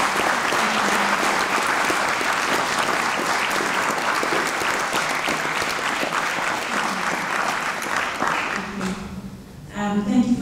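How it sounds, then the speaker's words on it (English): Sustained applause from a large audience closing a panel discussion, dense and steady for about nine seconds before tapering off near the end. "Can we please put our hands together for a final applause for our group."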